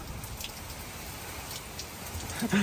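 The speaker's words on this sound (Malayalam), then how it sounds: "നല്ല മഴയാണ് അടിപൊളി മഴ" Steady rain falls outside, a continuous soft hiss with scattered drops that holds at an even level throughout, with a brief nearer knock or clatter at the very end.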